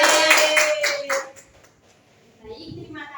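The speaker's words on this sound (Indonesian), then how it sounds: "Tepuk tangan untuk kelompok 3" Classmates clap for a student group in a classroom, a dense burst of hand claps for about a second and a half that fades out, followed by a teacher's voice.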